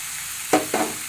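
Bombay duck fish (lote mach) frying in a pan, Bengali style, with two short bursts of sizzle and stirring over a quiet background, no talk.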